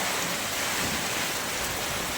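Heavy rain pours steadily during a stormy downpour, a dense, even hiss with no pauses, close by and alone.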